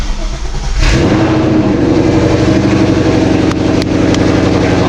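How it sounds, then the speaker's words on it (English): A Ford Mustang cold start: a short cranking burst, then the engine catches and settles into a loud, steady, rough idle close by. "Cold start."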